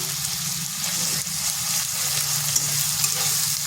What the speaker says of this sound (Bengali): একটু ভালোভাবে কষে নিচ্ছি যাতে আদার কাঁচা গন্ধটা চলে যায়।